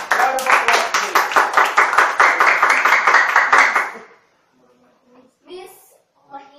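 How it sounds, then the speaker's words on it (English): A rhythmic burst of audience clapping welcomes a guest, the president of a soap company, loud and close for about four seconds, then stops abruptly before a few spoken words follow. "Round of applause, please."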